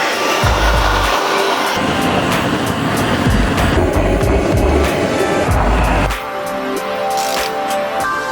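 Torch heating the metal of a tacked-together turbo manifold for a Chevy Cruze 1.8 turbo: a loud, continuous roaring hiss close up, broken by a few clanks, easing to a thinner hiss near the end.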